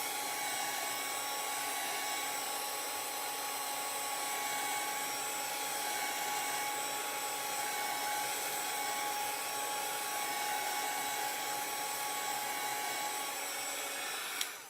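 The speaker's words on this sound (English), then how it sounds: "that's what you use the heat tool for" An embossing heat tool blows hot air with a steady, high-pitched whine and airy hiss, continuous and close, and then cuts off at the end.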